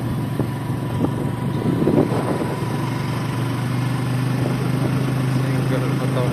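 A Bajaj CT 125 motorcycle engine idles nearby with a steady low hum and a faint rhythmic throb, holding an even level throughout while people talk quietly around it.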